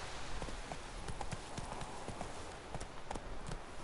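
Roach, the horse in The Witcher 3: Wild Hunt, trots with a steady, rapid clip-clop of hooves over a constant ambient bed, moderately close, with no talking.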